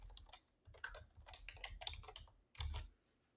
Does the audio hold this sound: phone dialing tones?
no